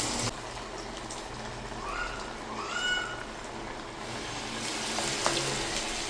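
Methi chekkalu fry in hot oil with a steady, close sizzle and crackle that swells as fresh dough goes in, while a few faint high squeaking tones drift over the frying.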